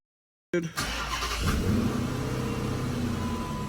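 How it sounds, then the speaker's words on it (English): A 2005 Chrysler 300C, being rebuilt after a wreck, cranks and fires up abruptly after a moment of silence, then settles into a loud, steady engine roar with a brief rise in revs close by. "And then we can start the car."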